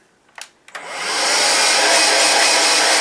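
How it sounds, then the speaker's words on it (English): A Vax Air Cordless Duo vacuum cleaner gives a couple of clicks and then spins up in boost mode to a loud, steady, high-pitched whirring roar that holds to the end, with no talking. "Just going to judge the suction with the boost."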